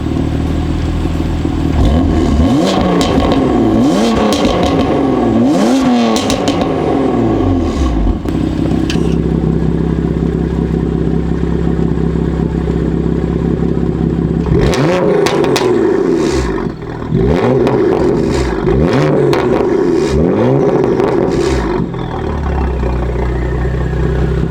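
A BMW F82 M4 with its Valvetronic exhaust valves open revs hard in a park, the loud rising and falling engine roars echoing in two long bursts with a steadier idle rumble between them.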